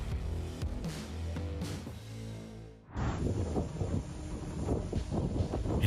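Strong wind batters and topples heavy machinery, a loud, broad roaring gust that rises sharply midway and continues rushing and buffeting the microphone.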